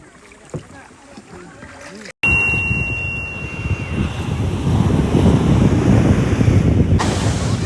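Sea waves wash onto a beach in Goa as a steady, loud surf roar under heavy wind buffeting, beginning after a brief cutoff that follows quieter ambient sound; a faint thin tone briefly rides over it.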